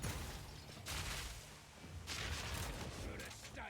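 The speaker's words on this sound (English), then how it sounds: "What is that explosion that's happening?" Repeated explosions in Path of Exile 2 during Grenadier Witch Hunter combat, two bursts of crackling blasts separated by a quieter stretch, fairly faint and mixed with game noise.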